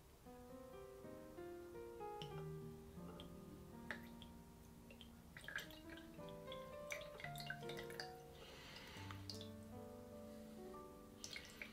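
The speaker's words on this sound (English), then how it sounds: "And now pour the cold water over the sugar cube." Cold water drips slowly over a sugar cube into a glass of absinthe, a faint series of small liquid drips and soft ticks against quiet background tones, irregular and close.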